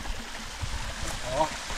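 A small mountain stream flows through a rural valley, a steady close trickle and rush of water filling the background without any clear speech over it.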